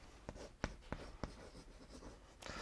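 A teacher writes on a classroom board: several sharp, separate taps and scratches of chalk or marker, fairly faint against quiet room tone.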